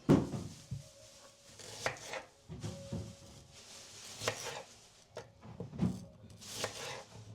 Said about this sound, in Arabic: هاي تقطيعة البصل على الطريقة الشامية